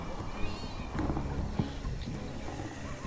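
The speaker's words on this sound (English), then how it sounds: "Do we hear some ambient cats and dogs?" Ambient cats meowing in the video game Rise of the Reds, several brief meows scattered through a busy background of game noise and low rumble, with no speech.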